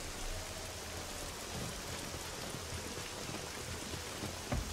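Rain falls in the video game 7 Days to Die as a steady, dense broadband hiss. It holds even and moderately quiet throughout, with a faint low rumble beneath and no voices.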